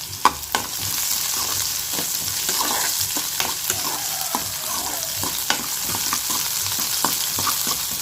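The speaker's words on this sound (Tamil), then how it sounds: "இந்த அவரைக்காய் பொரியலுக்கு கடுகு உளுந்து வெங்காயம் பச்சை மிளகா சேர்த்துருக்கோம். இது 3 சேர்ந்து நல்லா வதங்கி வரட்டும்." Mustard seeds, urad dal, onion and green chilli frying in oil for a broad bean stir-fry, a loud continuous sizzle with frequent crackles and pops, close up and without talk.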